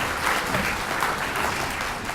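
An audience at a student awards ceremony in Escambia County, Florida applauds. The clapping is dense, close and loud, and it continues without pause for the whole moment.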